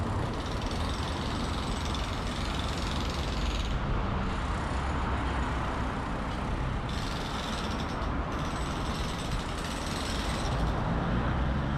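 Road traffic streams past at the Dao Khanong interchange, trucks, buses and cars in a constant roar with hissing swells as vehicles pass, moderately distant and without speech.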